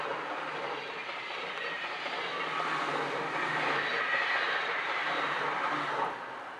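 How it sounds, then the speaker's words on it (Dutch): A train rolls steadily past the Bavinkelsweg railway crossing, a broad continuous rumble with faint clatter that swells slightly before easing off near the end. "Dan komt er weer een trein."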